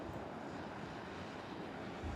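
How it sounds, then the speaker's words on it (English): Alpha Jet aircraft flying in during a video game battle, a steady, fairly faint broadband roar of jet engines holding level throughout with no voices. "The Alpha Jet train is on the way."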